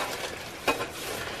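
Onions and peppers fry in a frying pan with a steady soft sizzle and a brief stirring scrape partway through.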